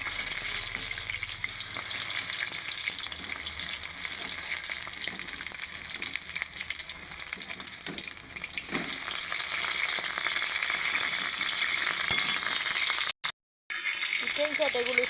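Chicken satay pieces frying in oil make a dense, constant close-up sizzle with occasional stirring, a voice faintly present at times, and a brief cut-out near the end.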